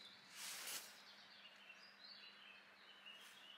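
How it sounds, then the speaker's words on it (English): Faint, distant birdsong at a wild camping spot, scattered high chirps over a soft, steady outdoor hiss, calm and without voices. "all I can hear is the sound of birds."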